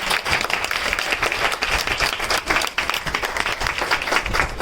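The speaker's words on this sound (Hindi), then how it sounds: "मैडम के लिए जोरदार ताली।" A university hall audience at a Teachers Day celebration bursts into loud, sustained applause for a madam, dense clapping that fills the room steadily throughout.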